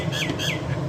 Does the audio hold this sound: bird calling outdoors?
yes